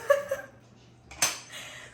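A knife cuts through a strawberry shortcake on a plate, giving a few soft clinks of metal on the plate and then a sharp scrape near the end, fairly faint, with no talking.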